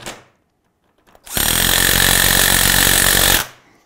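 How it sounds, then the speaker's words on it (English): An 18 volt impact driver drives a Torx screw into a Hyfax slide during a snowmobile suspension install, a loud sustained whirring burst lasting about two seconds, close up, with nobody talking. "Put them on with an impact. It's an 18 volt impact."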